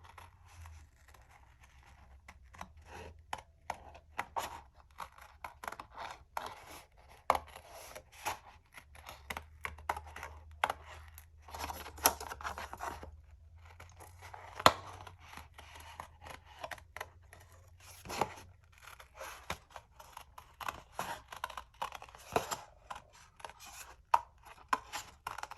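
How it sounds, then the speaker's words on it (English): Scissors trim excess paper for a flip album craft project in a string of irregular, close snips and crisp cutting sounds, with soft paper rustling between the cuts and no speech. "We will trim off the excess paper."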